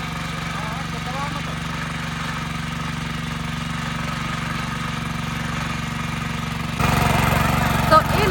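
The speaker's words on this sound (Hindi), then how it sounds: "अभी दीदी जा रही है ट्रैक्टर चलाने के लिए" A tractor engine idles and runs during wheat sowing on a farm, a steady mid-pitched drone with a constant hum that grows noticeably louder near the end.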